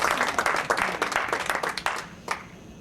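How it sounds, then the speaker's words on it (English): An audience at a talk applauds for the Chicago Cubs, a steady wash of many hands clapping that tapers off to a few last claps, moderately close with no voices over it. "Round of applause for our Cubbies."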